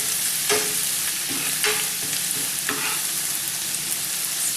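Garlic sizzles and fries steadily in a hot pan for a honey chilli egg dish, with a few louder stirring scrapes and spatula sweeps over a constant hiss; no one speaks.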